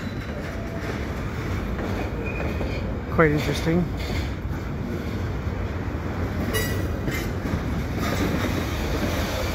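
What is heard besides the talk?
freight train kicking cars in a CP intermodal yard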